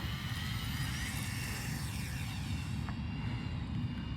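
A 500mm Volantex RC F4U Corsair model plane's electric motor whines steadily through a touch and go, a constant buzzing drone at moderate distance with a faint pitch sweep, no voices.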